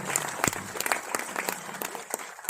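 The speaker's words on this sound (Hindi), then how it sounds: "आपकी तालियों की गड़गड़ाहट से उनका" An audience at an awards ceremony for a talent honours event claps in a dense, continuous round of applause, close and lively with sharp individual claps standing out across the whole stretch.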